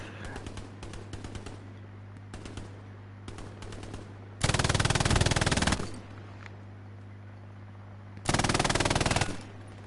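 Bursts of automatic gunfire in the World War II shooter Hell Let Loose, several short rattling volleys early on followed by two longer, loud sustained bursts, over a steady low engine-like hum.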